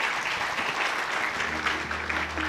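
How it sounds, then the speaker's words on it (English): An audience at a youth leadership summit claps steadily for a speaker, a dense, even wash of applause at moderate distance with a faint low hum underneath. "Once again, a big applause for Ms. Sharon Kane, ladies and gentlemen."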